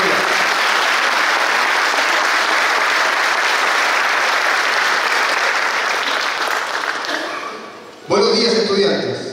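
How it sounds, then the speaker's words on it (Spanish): A graduation ceremony audience applauds students with loud, sustained clapping that fades near the end before a voice begins speaking over a public address system. "Iniciamos la titulación año 2023 con un fuerte aplauso a los estudiantes"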